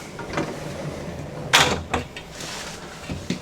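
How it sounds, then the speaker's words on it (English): The bedroom door of a new 4x4 Class C Dynamax Isata 6 30FW RV is handled, giving a sharp latch click and thud followed by softer knocks and rattles, close by with faint room noise. "And the bedroom has a door"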